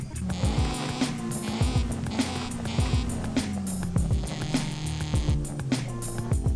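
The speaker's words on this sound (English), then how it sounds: "what sounds to be a muscle car engine" A muscle car engine swapped into a 2003 Toyota Celica SS-I in Forza Horizon 5 revs up and down repeatedly with a rough buzzing drone, pitch climbing and falling through gears in an even, close, continuous rhythm.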